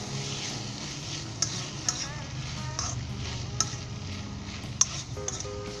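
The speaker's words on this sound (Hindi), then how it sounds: "अब फिर हमने 1 से 2 मिनट के लिए इसे स्टर करना है, स्टर फ्राई" Pasta is stir-fried in a pan with a steady sizzle, while a spoon scrapes and clinks against the metal in occasional sharp knocks.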